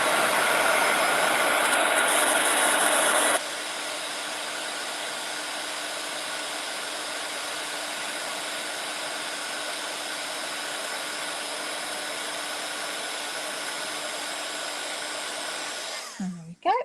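A heat tool blows steadily over a stamped craft project, a close, loud, even whoosh that drops a step in level after a few seconds and continues before cutting off with a brief clatter.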